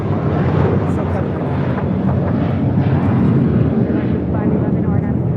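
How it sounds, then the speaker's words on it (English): A JetBlue Airways Airbus A321 takes off at LAX, a steady broadband engine roar filling the whole stretch at constant high level, with some wind buffeting on the microphone and no break or fade. "This is JetBlue Airways 1374 taking off to Newark on an A321."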